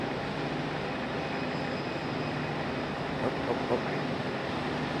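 Boeing 777 airliner moving at Raleigh Durham airport at night, a steady broad engine rumble and roar heard from a distance, with a brief spoken exclamation over it.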